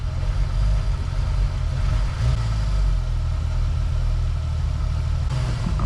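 A Jeep Wrangler engine with a rough-idle complaint runs steadily at about 1200 RPM, producing a continuous, even low rumble with no voices over it.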